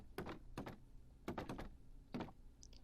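A Minecraft fence gate swinging open and shut, heard as a few quick woody clacks in short pairs with gaps between them, fairly quiet and with no voices.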